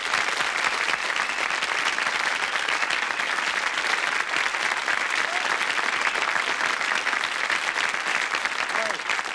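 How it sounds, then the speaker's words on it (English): A 1981 television game-show studio audience applauds loudly and continuously, a thick wash of clapping that holds steady from start to finish. "while you're applauding Chris, how about thanking, please, D.D. Wild"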